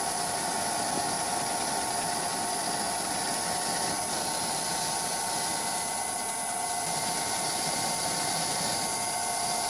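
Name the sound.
lathe turning down a shoulder for a bolt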